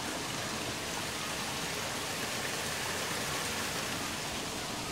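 Fast water rushes through a large village canal in a dense, continuous roar that stays loud and even, with no break or other sounds on top.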